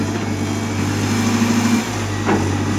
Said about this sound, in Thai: ท่านผู้ชมสังเกตเสียงเครื่องยนต์นะครับ เสียงเครื่องยนต์ค่อนข้างเดินเรียบครับ